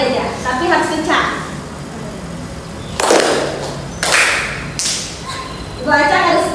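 Classroom students clap together when the teacher points: after a stretch of speaking, three crisp unison claps land about a second apart, then the teacher's voice resumes.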